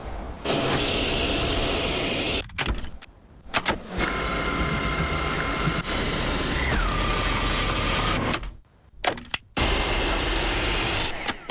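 A Dyson V6 cordless vacuum cleaner runs with a loud, steady motor whine. It cuts out and restarts several times in short bursts, with brief silent gaps between.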